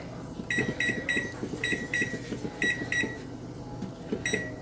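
A microwave oven runs with a steady low hum, while a rapid series of sharp electronic beeps sounds in clusters as its timer is set, close and clear.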